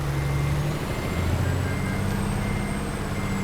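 A Peterbilt 379 heavy hauler in American Truck Simulator rumbles in reverse with a steady low diesel drone and a thin continuous warning tone above it, loud and close without voices.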